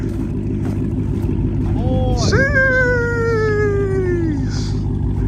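A cat out in the snow lets out one long, drawn-out meow that slowly falls in pitch, heard over a constant low engine-like rumble.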